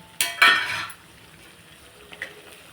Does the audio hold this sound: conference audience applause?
no